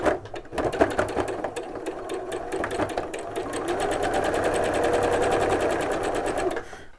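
A sewing machine stitches patchwork fabric in rapid, even bursts of needle strokes, starting briefly then running continuously at a steady clatter close by before stopping.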